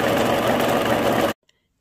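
A sewing machine stitches elastic into stretch-fabric wide-leg trousers with a steady, close, buzzing mechanical drone that stops abruptly after about one and a half seconds, followed by near silence.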